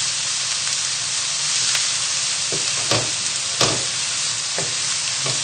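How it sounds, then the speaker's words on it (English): Onions frying in a pan over high heat give a steady, loud sizzle and hiss, with occasional soft clicks and scrapes as they are stirred around. "So just keep moving the onions around the pan just to check that nothing's burning. We've still got it on the high heat though."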